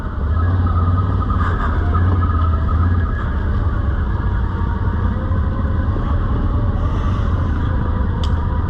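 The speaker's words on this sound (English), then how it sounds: "Excellent engine braking going down." Suzuki KingQuad 750 ATV on ITP Mud Lite tires holding back on engine braking down a hill, a steady loud low engine drone running throughout.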